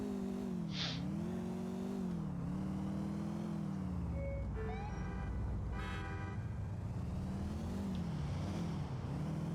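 A modded super buggy car in GTA IV drives with a steady engine drone that rises and dips with the throttle, a brief horn-like toot partway through, all close and continuous without talk.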